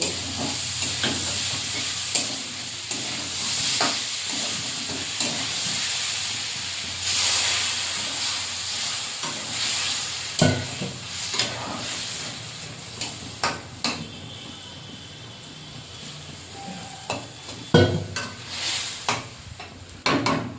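Snakehead fish dhoka stirred and cooked in a pan with a little water, a constant hissing, steamy sizzle under repeated spatula scrapes and clacks, close and steady, growing choppier toward the end.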